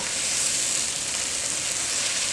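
Kale greens sizzling and frying in bacon fat in a pot, a steady, close hiss that fills the whole clip without any talk.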